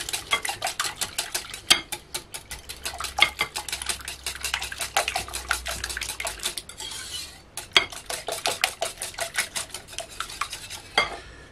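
A whisk rattles briskly against a bowl while beating cream and milk together, a fast and continuous clatter of metal ticks with one short pause midway.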